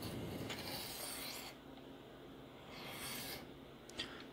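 Knife edge swiped lightly across a sharpening stone in a Hapstone holder on a Work Sharp Precision Adjust sharpener to peel off a burr, giving close, soft abrasive rasping strokes with brief pauses between passes.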